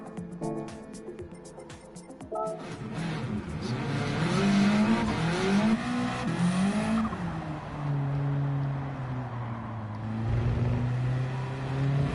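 A Bugatti Veyron in a racing video game, its engine note climbing and falling through loud sustained revs with gear changes and brief tire squeal, steady and close throughout.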